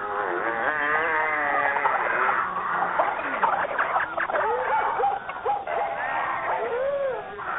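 A staged sound effect of many animals crying out together as they board Noah's ark. Overlapping wavering calls, squeals and barks form a busy, continuous chorus that lasts the whole stretch.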